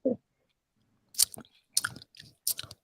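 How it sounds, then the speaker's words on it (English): Wet mouth smacking and chewing noises from someone sipping a piña colada, four close, crisp bursts after a brief initial smack, with no talking. "Let me get some smacking going on in the meantime."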